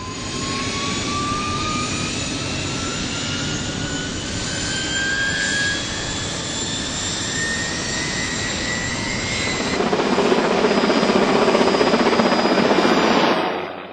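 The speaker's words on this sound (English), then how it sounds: "we're going to lift them with the helicopter today" A helicopter works over a factory powertrain building roof, lifting obsolete stacks away: a steady, loud rotor and engine roar with a rising whine, holding throughout and swelling louder toward the end, with no talk.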